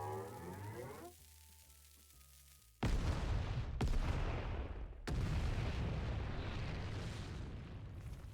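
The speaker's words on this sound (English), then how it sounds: "That's a bomb, or I was born yesterday." A bomb goes off in Final Fantasy XIV: after quiet game music, a sudden loud blast at about three seconds rolls into a long, rumbling roar with further heavy bursts near four and five seconds.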